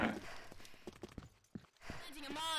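Horse hooves clip-clopping in an online shooter match, a quick run of hollow knocks heard over headset chatter, with voices talking around them.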